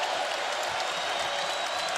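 A basketball crowd at the Erwin Center roars and cheers during an Oklahoma vs Texas game, a dense, steady wall of noise that holds for the whole moment.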